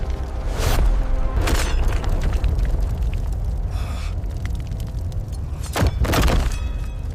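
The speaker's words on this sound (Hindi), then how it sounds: "एक भयंकर ऊर्जा विस्फोट हुआ" A dense, loud rumbling roar fills the whole clip, punctuated by a few sharp bursts, like a powerful blast or energy explosion with no voices.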